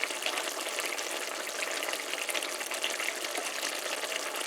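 Scallions and chopped pepper hitting chicken livers and gizzards frying in a pan, giving a steady, dense, loud sizzle that carries on evenly throughout with no voices.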